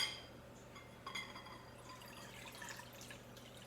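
1.5 cups of water running steadily into a 4-cup prep bowl in a home kitchen, a soft continuous pour with a brief splashy surge, faint and close by, no voices.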